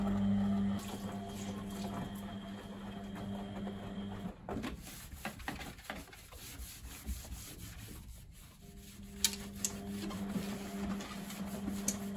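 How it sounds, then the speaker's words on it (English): A washing machine tumbles workshop rags with a washing-up brush inside, giving a steady rubbing churn with irregular soft knocks and clunks as the drum turns. "There's a washing up brush in there, as you can see, getting cleaned with my workshop rags, so that's what's doing the clunking."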